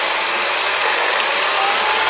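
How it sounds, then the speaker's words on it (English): Engine of a Mercedes CLK 230 Kompressor revving with its supercharger engaged, a loud, continuous close roar and high whine holding steady without breaks. "Let's give it a rev, and let's hope that this supercharger kicks in."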